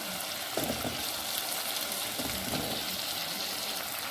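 Potato cubes fry in hot oil in a pan, giving a dense, loud, steady sizzle with a couple of soft stirring scrapes, no voices.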